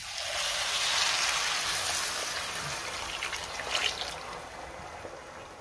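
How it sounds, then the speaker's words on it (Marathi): Hot water is poured into rice in a cooking pot for masala rice, making a continuous close pouring and splashing rush that stays fairly even throughout. "आता आपल्याला ह्यामध्ये पाणी घालायचंय"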